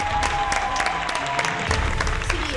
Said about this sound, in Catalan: Perfecte, aplaudiments!